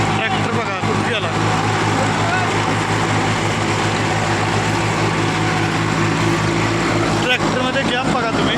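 A 30 HP Swaraj tractor engine runs continuously, producing a loud, even mechanical drone with a low rumble that holds steady for several seconds, with brief small changes in texture near the start and end.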